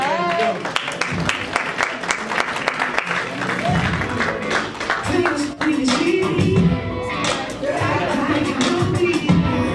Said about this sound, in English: Come on down, Ms. Sophia White. Let's give her a round of applause.